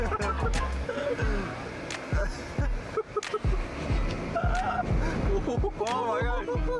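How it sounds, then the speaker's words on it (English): Car drifting on set in Hangzhou, likely the 212 T01 off-roader, with tires skidding and squealing in repeated bursts over engine noise while people talk and exclaim. "Oh my god, drift!"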